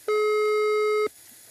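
Telephone ringback tone on a dialled call that rings unanswered: one steady electronic buzz lasting about a second, then a cut to quiet line hiss.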